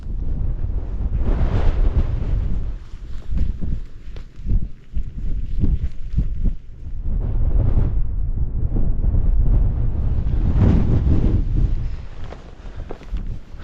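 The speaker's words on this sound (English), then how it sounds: "That wind is bitter. It's only just above freezing now and it's quite a strong breeze" Strong, bitterly cold wind buffets the microphone outdoors in near-freezing air, roaring in loud gusts that swell and ease throughout without any talk.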